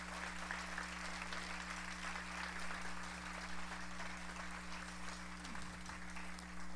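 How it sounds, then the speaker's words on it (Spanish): A concert audience applauds steadily at a Christmas and traditional music performance in La Casona Aquiles Nazoa, the clapping somewhat distant and soft over a constant electrical hum. "Yo también aplaudo, lo aplaudo."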